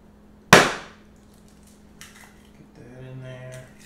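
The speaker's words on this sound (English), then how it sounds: "I gotta crack a couple eggs" An egg cracks sharply against a hard edge in one loud, close knock, followed by faint shell fumbling and the light clink of a kitchen utensil.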